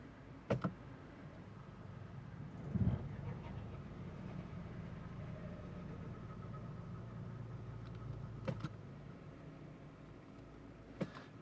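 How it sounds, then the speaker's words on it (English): From a Subaru TR690 CVT transmission that is low on fluid comes a faint continuous whirring suction drone beneath the idling engine, with a few soft clicks and thumps. "Hear that suction noise again."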